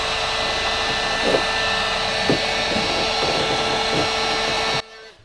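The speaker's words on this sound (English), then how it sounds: "The heat gun gets really, really hot, and it can distort, bend, and even burn this railing." A heat gun blows a loud, steady whirring rush of hot air while heating a Boston Whaler boat's rub rail, then cuts off abruptly near the end.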